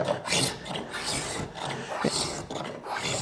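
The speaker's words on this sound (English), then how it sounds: "I could go to a finer spoke shave if I wanted to finish it a little cleaner." A spoke shave set for a heavy cut rasps along wood being shaped for a stool, several quick, close shaving strokes in a rough rhythm with no talk.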